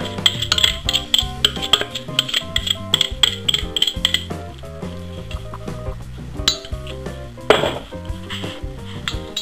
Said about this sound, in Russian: Тоже размешаю хорошенько.